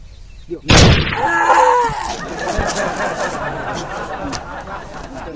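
A single loud, sharp gunshot from a real gun loaded with fake bullets, at a Uttarayan kite-festival gathering, followed by a lingering noisy wash of background chatter and laughter.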